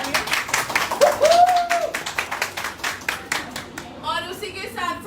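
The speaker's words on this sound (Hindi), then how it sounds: "तो इनके लिए मैं चाहूंगी एक बार जोरदार तालियां" Audience clapping at a success event, rhythmic claps with a voice partly over them, building and then fading as speech resumes near the end.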